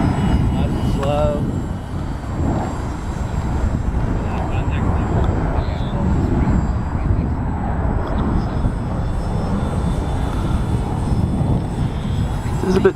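A Parkzone P-47 RC model plane flies at full throttle in heavy wind, a steady distant engine drone running throughout under wind noise and nearby talk.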